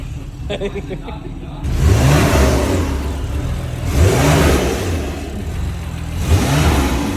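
A car engine fitted with Eventuri carbon fiber intakes revs hard in loud, close repeated surges that rise and fall three times, with voices talking over it.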